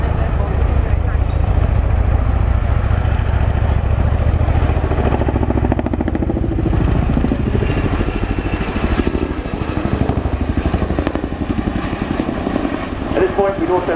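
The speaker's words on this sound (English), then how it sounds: "This is most likely time to hear our famous blade slapper to enjoy the full force of the Chinook." A Chinook helicopter at an air show pounds out heavy, rhythmic rotor blade slap at high speed, loud and close, with a deep engine rumble beneath and a voice talking over it.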